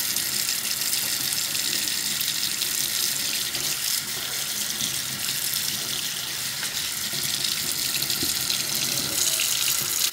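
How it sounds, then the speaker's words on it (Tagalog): An itel S25 Ultra smartphone held under a running tap, the water pouring steadily and loudly in a continuous broadband hiss with no talk. "padaanan muna natin sa tubig itong S25 Ultra."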